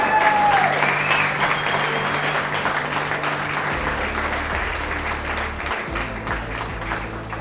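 An audience at a construction industry chapter event applauds for Bronx Borough President Vanessa Gibson, sustained dense clapping that starts loud and slowly eases, with a low hum and faint voices underneath.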